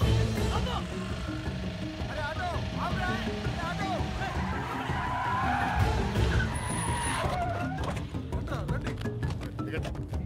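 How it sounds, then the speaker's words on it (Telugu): An auto-rickshaw pulling away on a street in a Telugu film scene, its engine and tire noise steady and fairly close under ongoing voices. "ఆటో వెళ్ళిపోతుంది"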